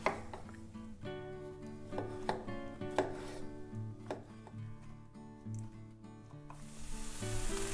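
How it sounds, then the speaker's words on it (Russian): A knife chops a small tomato on a board next to a sizzling frying pan. Crisp, irregular cuts come close up over the steady hiss of frying, and the sizzle rises toward the end. "Еще один овощ я порежу."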